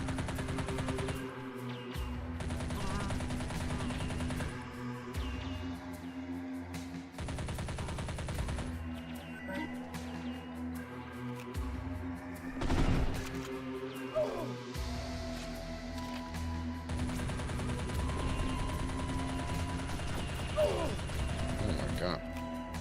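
A bouncing submachine gun fires in a video game, giving rapid rattling bursts with mechanical clicks that repeat across the clip over a steady tonal game background.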